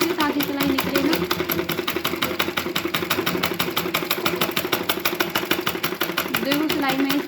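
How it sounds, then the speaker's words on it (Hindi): A sewing machine runs steadily as it stitches a heavy embroidered blouse, its fast, even needle rhythm continuous throughout, with someone speaking over it. "सिलाई में यहाँ से थोड़ी बैक करके लगा दूँगी अच्छे से ताकि सिलाई निकले ना।"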